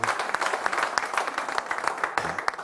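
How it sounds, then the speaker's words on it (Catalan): Audience applause at the opening ceremony of the GASTROMAR oyster cooking festival in l'Ampolla, with dense overlapping claps of moderate loudness and a few sharper individual claps standing out, continuing steadily throughout. "Un altre aplaudiment a la Patxi de l'Ostra Brava."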